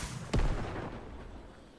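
A pumpkin launcher in a video game fires one deep, heavy boom that decays slowly into a low rumble against faint background noise.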